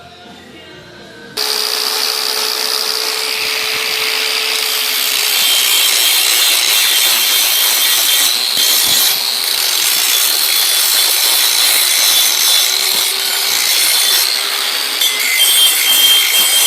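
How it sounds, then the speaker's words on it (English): Metal plate edges being chamfered before welding during an impact hammer mill build, likely with an angle grinder: a steady, loud abrasive whine and grinding hiss that starts abruptly and runs continuously, with no talking over it. "just going to chamfer back the edges here, so that when I weld the other piece on"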